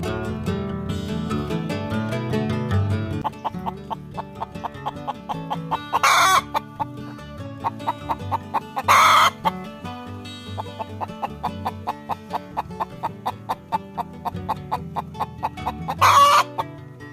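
A hen sits on her nest on a small Brazilian farm, giving steady rhythmic clucks close by, with a rooster crowing loudly three times over the clucking and no one speaking.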